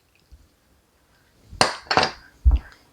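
A utensil stirring a dill and lemon sauce in a bowl, making a few close, brief clinks and scrapes against the bowl with quiet gaps in between.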